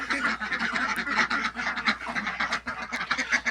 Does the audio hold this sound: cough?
no